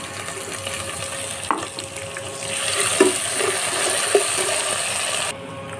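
Cinnamon and onion fry crackling in a pan, then a louder rising hiss as water hits the hot oil, with a few clanks of stirring before cutting off.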